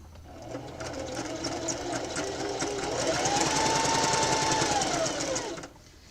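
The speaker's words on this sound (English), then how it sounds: "I am using one of the decorative stitches on my machine, and right now I'm just doing lines" A sewing machine runs steadily while quilting squiggly lines with a decorative stitch, its rapid mechanical needle hum close and continuous before slowing and stopping near the end.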